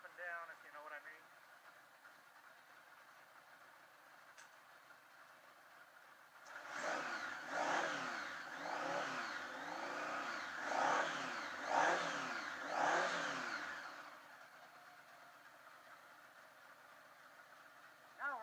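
A 1980 Honda Goldwing motorcycle engine firing up for the first time after sitting, catching and running with a rhythmic pulsing throb for several seconds before settling away, faint and somewhat distant, with a voice heard briefly before it.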